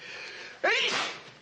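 A single sharp sneeze bursts out after a moment of quiet room tone, close and loud, then trails off, indoors in a classic television mystery scene.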